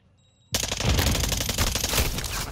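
Rapid automatic gunfire from a first-person shooter game erupts suddenly after a quiet moment, loud and close, with sustained rattling bursts running to the end.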